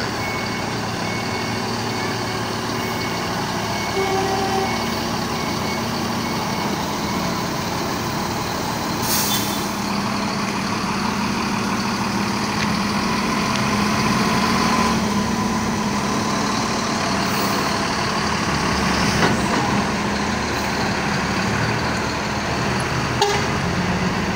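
A new front-engine Epastar bus is parked at a bus terminal in Payakumbuh, with a steady engine rumble, repeated reversing beeps and a brief air-brake hiss over continuous traffic noise.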